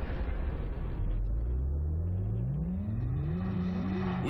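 A V8 car engine revs hard in a TV commercial aired during a football broadcast, the pitch climbing steadily as it accelerates, loud and close with no talk over it.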